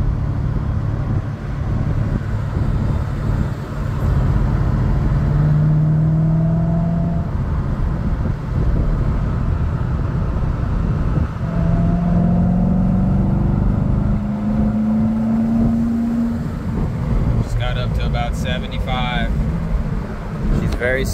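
A 2016 Corvette cruising at about 60 mph, with a steady low engine and road rumble throughout and someone talking over it.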